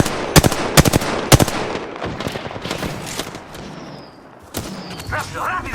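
Rapid automatic gunfire in the Apex Legends shooter game, sharp loud bursts early on, then dense ongoing shooting and impacts with a distant whine, close and intense throughout.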